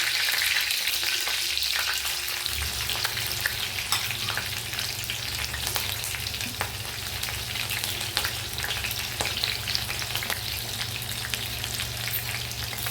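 Mustard seeds, jeera, green chilies and curry leaves sizzle in hot oil with a steady, loud, crackling hiss, heard close up and continuously, with faint scattered pops and a low hum underneath.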